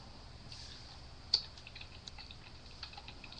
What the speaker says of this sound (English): You heard my keyboard going?